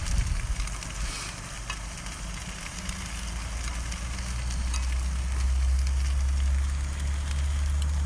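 Shiso leaves coated in tempura batter frying in olive oil at a solo campsite, giving a steady close sizzle with a low burner-like rumble underneath and no talk.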